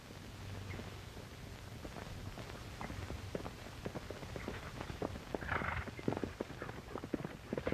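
Horse hooves clip-clop on hard ground in an uneven rhythm, moderately close, with no voices.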